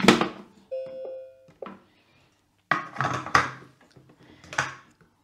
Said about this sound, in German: Jetzt setzen wir den Deckel drauf.